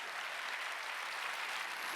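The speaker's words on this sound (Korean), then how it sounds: "이걸 박수 세게 치라고" A church congregation claps hands during a Wednesday worship service, a quiet, even wash of clapping that holds steady throughout without speech.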